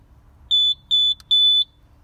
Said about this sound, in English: press and hold till I hear two beeps